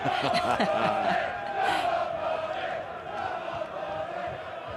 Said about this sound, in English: Big roar from the crowd